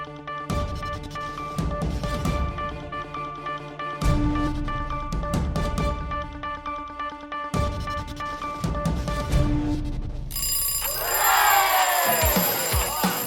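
A ringing alarm with a jangling bell-like tone sounds in repeated bursts separated by brief gaps, fairly loud and close, ending in a different warbling electronic tone.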